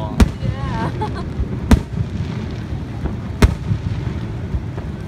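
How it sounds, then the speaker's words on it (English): Fourth of July fireworks on a rainy night, three sharp explosive bangs spaced about a second and a half apart over a steady wash of rain, with distant crackle and voices murmuring in the background. "You cannot really see the fireworks at all."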